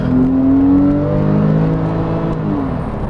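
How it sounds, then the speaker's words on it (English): A Porsche 911 Carrera S exhaust revs up with a rising, throaty engine note, then eases off, loud and close with no talking. "The exhaust gives the car a good feel, good sound."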